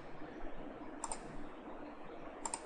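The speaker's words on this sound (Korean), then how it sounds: "클릭." Two pairs of crisp mouse clicks, about a second and a half apart, sound close against a low room hiss while 3D modelling in AutoCAD, with no talking.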